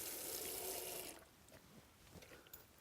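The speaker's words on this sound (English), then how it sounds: "Going to rinse" Tap water runs steadily into a basin, rinsing it during catheter care, for about a second, then cuts off, leaving a few faint drips and splashes.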